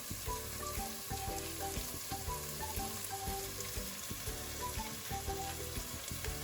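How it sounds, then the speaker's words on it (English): Chicken and mushroom kebabs frying with onions in a pan give off a steady crackling sizzle with dense popping spatter and a few soft knocks, moderately quiet and continuous. "So we are going to add the kebabs to the onions now."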